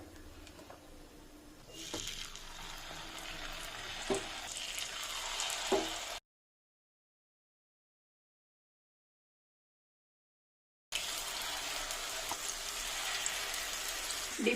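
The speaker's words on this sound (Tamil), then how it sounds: "அதனால் இப்போ நெய்யில் சுடலாம்" Kerala unniyappam frying in ghee, a soft bubbling sizzle with occasional stirring clinks that fades to silence midway and then returns at a similar faint level.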